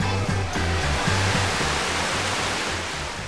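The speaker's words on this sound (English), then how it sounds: "These 5 screw pumps mark the beginning of the end for our brave wastewater." Screw pumps lifting wastewater to the upper level of a treatment plant, producing a steady loud rushing like a waterfall, with a rhythmic low churning pulse beneath, continuous and close throughout.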